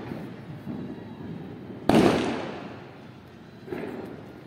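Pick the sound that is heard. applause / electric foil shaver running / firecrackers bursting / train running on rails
firecrackers bursting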